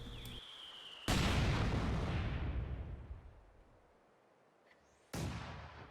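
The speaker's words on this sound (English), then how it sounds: "if the opponent's mortar is still firing, it'll fire another 2 shots" Heavy mortar and howitzer shells from Company of Heroes 2 detonate loudly with deep booming blasts, one major impact ringing out and decaying over several seconds, then a second explosion hitting near the end.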